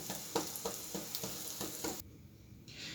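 Bread slices soaked for classic French toast frying in a pan, a soft, steady sizzle with several light clicks and scrapes of turning or stirring, fading suddenly near the end.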